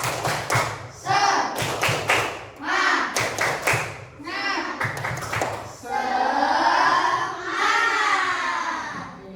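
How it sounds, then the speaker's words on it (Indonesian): Children perform the tepuk semangat clapping chant in an Indonesian classroom, with bursts of rhythmic hand claps alternating with chanted voices, close and loud, ending in a sustained shouted chant. "Tepuk semangat"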